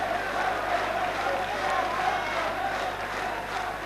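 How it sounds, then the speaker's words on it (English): Stadium crowd at a 2000 Hull versus Bradford rugby league match applauding a player coming off, a steady distant roar of clapping and cheering with a faint low hum beneath. "Sean McRae coming out with Tony Anderson taking the applause from the best stand side"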